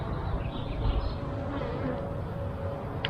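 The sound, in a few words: honeybees buzzing at an urban beehive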